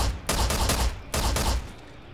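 Gunfire rings out in the shooter video game E.Y.E Divine Cybermancy, two loud sustained bursts of rapid shots with a booming low end, each lasting under a second and fading away, with no talking.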